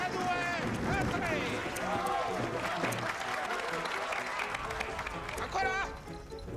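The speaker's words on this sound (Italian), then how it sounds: "Voglio un applauso d'incoraggiamento!" An encouraging round of applause from a crowd in a film scene from Pinocchio, with brisk, continuous clapping mixed with excited voices calling out over it throughout.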